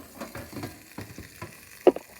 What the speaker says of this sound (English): Lots of sizzling going on in there, folks.